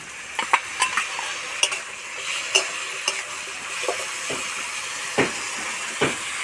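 Ground spice paste tipped into frying ash gourd pieces, with a steady sizzle of hot oil under repeated sharp scrapes and taps of a spatula stirring against the pan, close and clear, no voices.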